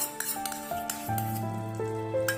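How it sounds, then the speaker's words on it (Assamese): Cream being stirred into a mixed vegetable curry in a pan: a spoon scraping and clinking against the pan, a few clanks, under steady background music with sustained tones. "ক্ৰীমটো দি ভালদৰে লৰাই দিব"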